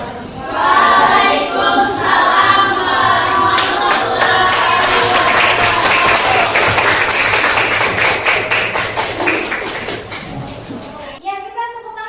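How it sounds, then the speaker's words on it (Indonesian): Classroom of students clapping after a class presentation, a loud, close, rhythmic burst of hand claps mixed with children's chatter and voices, fading out near the end. "Ya, kita tepuk tangan untuk kita semua."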